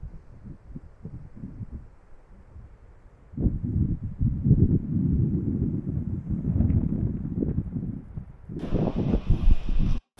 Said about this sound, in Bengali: অনেক বাতাস এখানে।